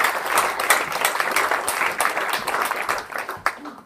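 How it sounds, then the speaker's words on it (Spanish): A church congregation bursts into sustained applause offered to God, many hands clapping densely and steadily, with a few voices mixed in, before the clapping tapers off. "¿Puede darle una ofrenda de aplauso al Dios de los cielos?"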